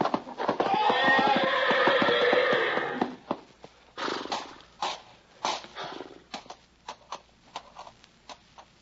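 Horse neighing loudly and then trampling in a radio drama scene, a long whinny for about three seconds followed by a run of sharp, uneven thuds and hoof-like impacts close up.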